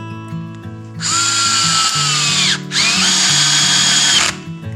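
A power tool sharpens the blade of a Collinear garden hoe with a loud, high grinding whine in two long runs separated by a brief pause, over a steady musical background.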